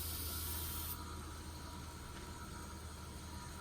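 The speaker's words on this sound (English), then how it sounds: "Spray down my belt to keep it from scorching my handle material." A continuous broad hiss of spraying onto a sanding belt runs throughout, loud and steady with a constant low hum underneath.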